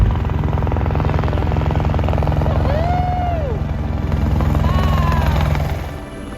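An Alia electric aircraft hovering during flight testing at Plattsburgh gives a loud, steady whirring drone with a few rising and falling tones. The sound holds evenly throughout and drops off slightly at the very end.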